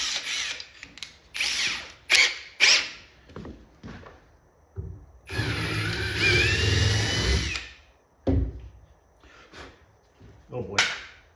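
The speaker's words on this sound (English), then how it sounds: "Let's try drilling a hole and see what happens." A power drill whirs in one sustained burst of a couple of seconds while drilling a hole in a Pole Position arcade cabinet, surrounded by short bursts of speech and handling noises.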